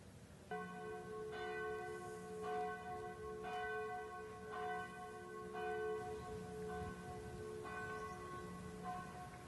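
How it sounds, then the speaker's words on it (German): Noon bells ring out from the campanile bell tower of the Fraueninsel monastery on Chiemsee, rich tolling strokes repeating about every second, sustained and moderately near, with no voices. "Das war jetzt das Zwölfeleiten vom Glockenturm vom Campanile auf der Fraueninsel."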